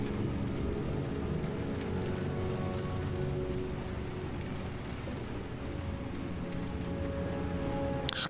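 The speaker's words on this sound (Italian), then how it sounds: "Piove. Cosa ti aspettavi?" Rain falls in the video game Heavy Rain as a constant, even hiss of steady downpour that carries on alone without a break.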